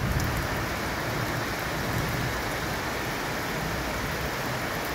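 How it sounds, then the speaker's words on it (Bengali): Steady, heavy rain pours down at night in a dense, continuous roar with no pauses, close and loud throughout. "দেখতে পাচ্ছ গুরুম গুরুম বৃষ্টি"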